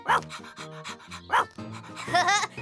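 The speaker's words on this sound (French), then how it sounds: "Rex est un chien de berger." A cartoon sheepdog pants in quick, loud breathy bursts, close and rhythmic, with a brief yip and whimper near the end.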